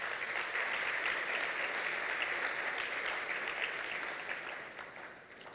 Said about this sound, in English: I want to give them a round of applause for that.